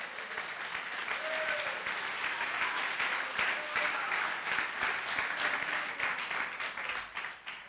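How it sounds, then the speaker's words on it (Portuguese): A church congregation breaks into sustained, dense applause, many hands clapping at once in a reverberant hall, holding steady before thinning slightly at the end. "Dá uma salva de palmas ao Senhor."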